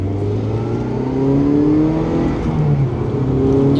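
A rebuilt, crash-damaged Mazda Miata roars as it accelerates hard, engine pitch climbing steadily through the rev range in a loud, continuous drone heard from inside the car, with no talking.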